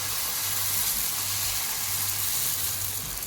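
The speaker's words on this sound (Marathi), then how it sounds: "त्यावर आपण डोश्याचं पीठ टाकतोय." Uttapam dosa batter spreads across an oiled frying pan with a steady, fairly loud hissing sizzle that holds evenly throughout, no voices present.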